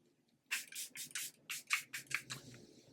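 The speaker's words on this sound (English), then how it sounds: "setting spray" A series of short hissing spray bursts, about eight quick spritzes in an uneven rhythm, close by with faint background rustle.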